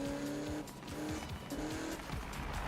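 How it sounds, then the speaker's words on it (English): A car slides and skids into a wall in Need for Speed (2015), with squealing tires, engine revs and scraping over a steady, fairly quiet racing backdrop and no talking. "I just let the car slide and it runs up against the wall"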